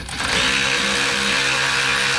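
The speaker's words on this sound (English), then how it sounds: "Once it's loose, I'm gonna go ahead and zip it off with a power tool." A power impact tool spins a strut nut off a Chevy Colorado ZR2 during a leveling-kit install, a loud, steady, close whirring buzz that starts almost immediately and runs unbroken to the end.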